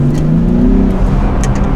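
A Nissan Fairlady 400Z accelerating, with its engine note partly made of synthesized sound played into the cabin; a loud, steady rising drone heard from inside the car, with no talk.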